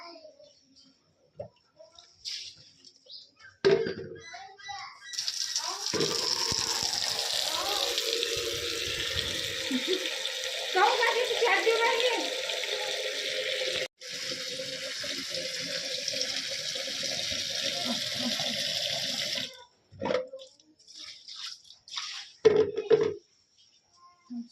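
Water splashes and pours during a morning wash, heard as a steady rushing gush in the middle with shorter splashes and clatter before and after.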